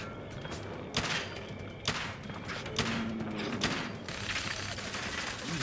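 Shooting in the game Fallout: about five loud, spaced gunshots with mechanical clunks between them, close and punchy over a low game ambience.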